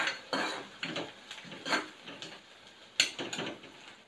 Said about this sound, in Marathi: यात मी एक कढीपत्ता टाकते, कढीपत्ता थोडा परतून घेऊया।